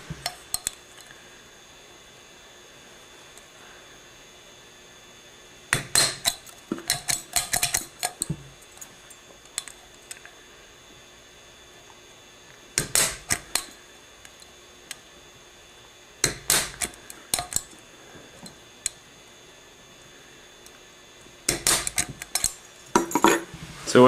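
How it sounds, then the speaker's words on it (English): Sharp metallic tapping in several separate bursts as holes are punched in a row around a thin aluminum can for an alcohol stove, each burst a quick cluster of close, clicky strikes with quiet pauses between. "I'm going to go ahead and punch around the entire thing"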